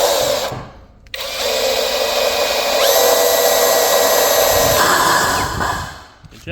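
A power drill bores into rebar-reinforced concrete in a long, loud, steady whine close by, with a short pause early and the tool winding down near the end.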